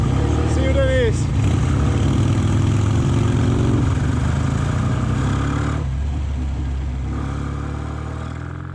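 A classic BSA A10 motorcycle on the road, its engine a steady, fairly loud drone with a brief rise early on, fading slightly near the end, with a rider's voice over it.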